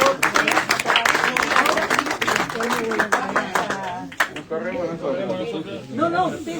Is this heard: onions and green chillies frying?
no